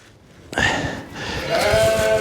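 Sheep bleating in a barn during lambing, a loud drawn-out call breaking in midway and a second bleat following close by, no talk.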